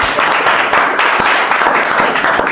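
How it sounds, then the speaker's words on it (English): An audience claps for a speaker, producing a brief burst of close, dense applause with distinct sharp hand claps standing out in the wash. "A round of applause for Mr. Rivers."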